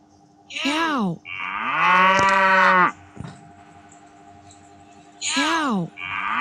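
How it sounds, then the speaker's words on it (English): Two cow moos: a long, loud, drawn-out low moo followed by a quieter stretch, then a second moo starting near the end, clear and close with a faint steady background hum. "Cow."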